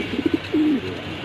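Racing pigeons, a red checker pair, give a few short close coos followed by one longer drawn-out coo, clear against a quiet background.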